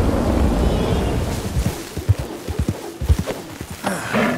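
Horse hooves clip-clopping in a rhythmic trot while riding in Red Dead Redemption 2, close and distinct over a rumbling, rain-like background.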